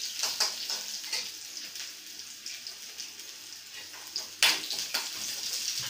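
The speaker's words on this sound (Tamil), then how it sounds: "கொஞ்சம் நல்லா வதக்க விட்டுருங்க." Ingredients for Kerala coconut chutney sauté in a pan with a soft, steady sizzle, punctuated by light stirring clinks and one sharper scrape near the end.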